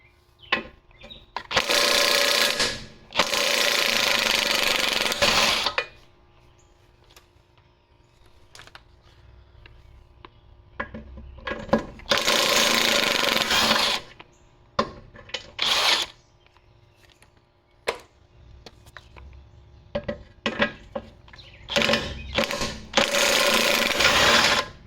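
Impact gun or power tool zipping off old control arm nuts on an R50 Nissan Pathfinder, loud bursts of whirring around 2–6 s, 12–14 s and later, separated by quieter clanks and handling noise.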